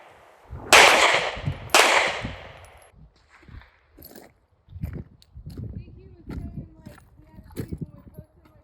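Two loud, sharp gunshots fired on command during a shooting range drill, about a second apart, each followed by a ringing decay, then a quieter stretch with softer activity and faint talk.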